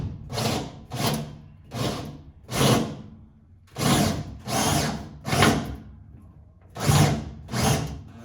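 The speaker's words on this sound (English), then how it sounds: "I'm going to need to drill in there" A power drill with a step bit drills a hole in a 1971 Monte Carlo SS454, about eight surges of grinding whine separated by brief pauses, close and loud with no talking.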